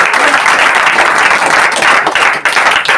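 A church congregation claps together at a Telugu prayer meeting closing a 40-day prayer, producing loud, dense, sustained clapping for about three seconds with no pause.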